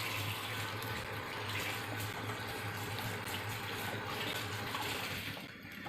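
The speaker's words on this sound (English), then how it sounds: "I've got to wash something here." A kitchen tap runs steadily while something is washed during home cooking of a Chinese dish, a constant close splashing rush that eases slightly near the end, with no voices.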